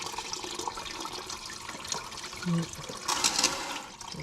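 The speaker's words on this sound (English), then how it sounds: "This time we're going to fill our bucket up." Water runs steadily into a bucket on a vintage acreage tractor job, a continuous splashing rush filling the whole clip, with a brief louder gurgle partway through.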